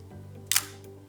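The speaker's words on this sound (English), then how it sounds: "And now you go to your highest shutter speed and you should hear or see a definite difference there." A 35mm film camera fires its shutter once at the highest shutter speed, a single sharp mechanical click near the middle of a quiet stretch with a faint steady hum underneath.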